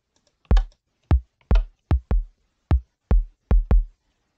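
Minecraft note blocks placed on stone play a short sequence of nine dull, percussive thuds in an uneven rhythm, close and clear with nothing else around them.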